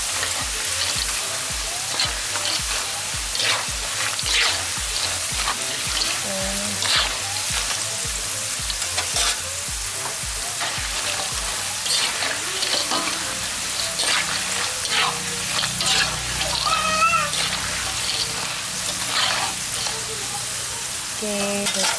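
Potato pieces frying in a pan of oil, a loud, crackling sizzle with rapid spattering pops that stays steady throughout, with occasional stirring clinks.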